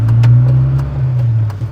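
A carburettor-fed Volvo 240 engine cruises steadily at about 1,000 rpm in third gear at a 20 mph urban pace, giving a low, even drone close up with no talk over it.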